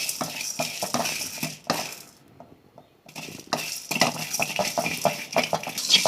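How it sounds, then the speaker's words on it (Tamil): Six or seven dry red chillies roasted in a pan for paruppu rasam rattle and clink against the metal as they are stirred, in short scraping bursts broken by a brief quiet pause. "இது காஞ்ச மிளகா ஒரு 6-7 காஞ்ச மிளகா. இது நல்லா வறுத்து எடுத்துடலாம்."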